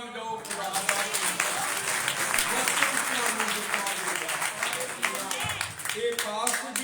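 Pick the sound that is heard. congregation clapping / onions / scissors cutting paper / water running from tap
congregation clapping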